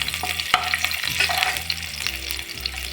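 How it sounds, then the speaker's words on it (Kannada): Garlic and curry leaves fry in about three tablespoons of hot oil in a pan over a medium flame, crackling and sizzling up close, with spatula stirs knocking against the pan. "ಮೀಡಿಯಂ ಫ್ಲೇಮಲ್ಲಿ ಇಟ್ಕೊಂಡೆ ಫ್ರೈ ಮಾಡ್ಕೊಳ್ಳಿ"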